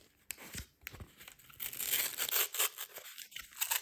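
Crinkly foil wrapper of a Pokémon card booster pack being torn open, close and fairly loud, with rustling crumples leading into a longer ripping stretch, no voice over it.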